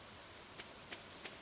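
Rain falls steadily in Stardew Valley, a soft, even hiss with a few faint droplet ticks and no other sounds.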